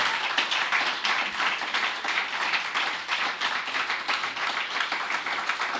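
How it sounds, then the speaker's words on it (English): An audience claps for a charity at its tenth-anniversary awards event, a dense, steady round of applause holding evenly from start to finish. "huge round of applause"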